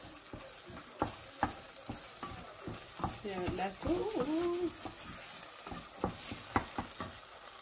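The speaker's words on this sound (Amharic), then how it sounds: "በእንደዚህ አይነት ሁኔታ እየተንተከተከ ነው ያለው።" Okra and minced meat stew bubbling and simmering in a pot, with stirring clatters and intermittent sharp knocks over a steady sizzle, while someone speaks briefly.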